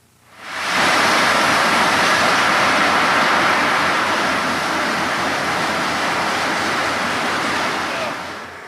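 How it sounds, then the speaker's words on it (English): Water rushing through an open superflume channel at a pipeline crossing, a loud, dense, steady roar that swells in within the first second, holds for about seven seconds, then starts to fade. "Superflumes are an open-ended channel that the water flows through"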